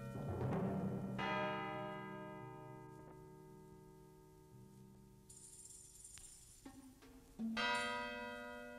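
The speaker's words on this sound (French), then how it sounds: "Toujours des tours de l'église s'épanche le sanglot des cloches." Church bells tolling from the church towers at a son et lumière show in Saissac, several slow resonant strikes with long ringing decay, moderately distant and alone without talk.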